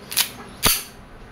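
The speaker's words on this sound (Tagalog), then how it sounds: "testing po, Sir Leo ng Quezon Colt M45 CQBP airgun pistol, CO2 powered by Umarex" Two sharp cracks from an Umarex Colt M45 CQBP CO2-powered airgun pistol fire about half a second apart, close and fairly loud, with quiet in between.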